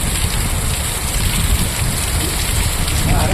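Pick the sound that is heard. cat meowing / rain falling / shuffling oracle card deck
rain falling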